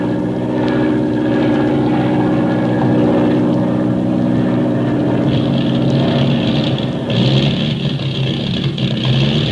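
A loud, droning airplane engine with motor trouble runs steadily throughout with a wavering, uneven pitch that swells and surges near the end, sounding strained and rough.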